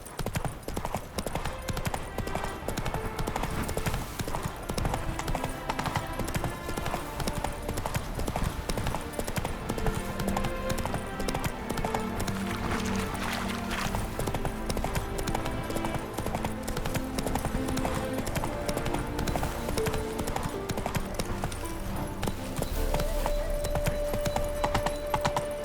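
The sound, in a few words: horse Roach galloping in The Witcher 3 video game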